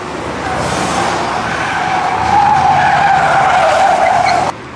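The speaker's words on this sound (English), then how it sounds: "There's a few cars trying to drift." Cars drifting at a Halloween car meet in London, tires skidding in a long continuous screech that rises and holds loud for several seconds before cutting off abruptly, with engines droning underneath.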